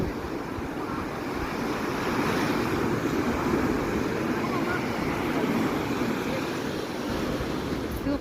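Waves break on the shore at a windy beach in Sveti Vlas, Bulgaria, a continuous loud roar of surf mixed with gusting wind buffeting the microphone, with no pause over several seconds.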